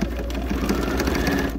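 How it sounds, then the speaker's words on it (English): A Bernina 130 sewing machine hemming jeans with gold thread, a loud, steady rapid needle chatter with a motor drone, running continuously and close. "Keep on sewing."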